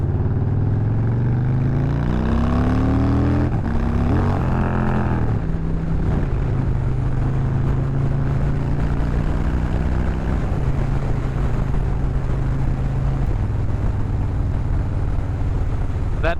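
A Harley-Davidson motorcycle riding in second gear, its engine and exhaust rumbling loud and close in a continuous deep drone, the pitch climbing and shifting with revs and a brief gear change, with wind noise throughout.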